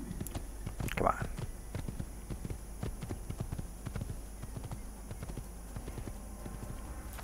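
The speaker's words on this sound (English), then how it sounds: "Right, get on the horse." A horse's hooves clip-clop at a steady walking pace in the Assassin's Creed video game, faint and mixed with game ambience, with a brief sharp sound near the start.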